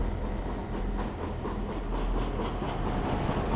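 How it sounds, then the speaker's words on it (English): A train runs through a tunnel with a steady, dense roar and faint rhythmic clatter of wheels over rails, continuous and loud throughout with no voices. "the train plunges on into another dark tunnel."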